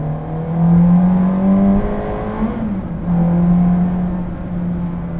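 The new Stratos sports car's engine revs inside a tunnel, a loud, close, droning roar that rises, dips briefly mid-way, then climbs and holds again, echoing off the tunnel walls.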